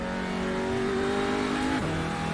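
Race car engine in the iRacing sim, Audi or Porsche, holding a steady high tone that drops sharply at a gear change near the end, loud and close with no talk.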